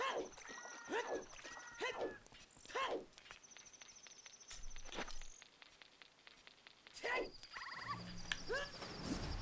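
Puppy sounds from the video game Ocarina of Time come as several short, high, chirpy yips scattered across the stretch, with game effects and a voice around them.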